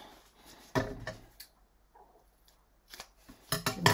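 Scissors snip through papercraft material while trimming off excess from a handmade belly band, with a few distinct close cuts separated by pauses and a quick cluster of snips at the end.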